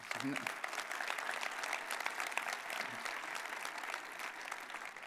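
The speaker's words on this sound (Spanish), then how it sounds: "Bueno, muy bien, un aplauso, ¿no?" A conference audience at a security event breaks into sustained applause, a dense, even patter of many hands, while a voice briefly speaks over it near the start and again midway.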